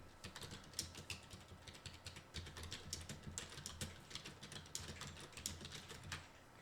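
Rapid typing on a computer keyboard, a quick run of light, close key clicks in irregular bursts, faint and without speech.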